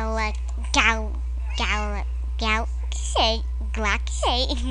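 A cat in the Minecraft video game gives a string of about six rising and falling meows, spaced evenly over a steady low hum, with no other voices.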